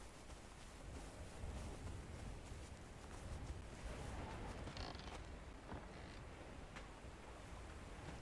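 In Conan Exiles, a wooden door creaks open and swings shut in-game, the creaking mechanism heard over a steady ambient background with no talking.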